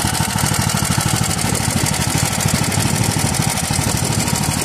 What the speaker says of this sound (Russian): Движок пятнашки стоит, лифановский.